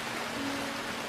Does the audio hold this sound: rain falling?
yes